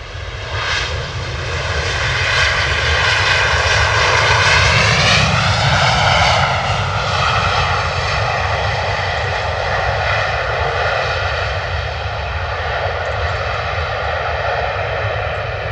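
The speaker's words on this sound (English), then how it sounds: "Heavy landing from the Ryanair." A Ryanair airliner makes a heavy landing at London Stansted Airport, its jet engines roaring loud and steady for the whole stretch, with a rising then falling whine as the aircraft passes close by.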